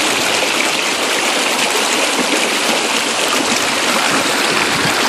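River water rushes steadily through a gold sluice box loaded with screened gravel, a loud, unbroken broadband wash close to the listener with no talk.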